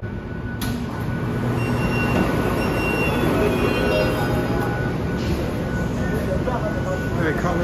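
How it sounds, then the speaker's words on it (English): A driverless Line 14 metro train rumbles in and rolls steadily through the station, with rail noise and squealing wheels, while a person talks over it. "Here comes line 14 now, another driverless train."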